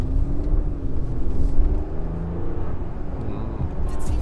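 A VW Touareg R, a 462 hp car, driving along a road, heard from inside as a steady low engine and road rumble with a faint rising tone.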